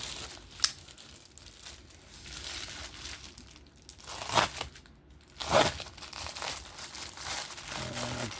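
Plastic packaging around an Atoma 600 grit diamond plate is cut open and handled, giving soft crinkling and rustling with a few sharper crackles and tearing bursts, close and quiet, with no talking.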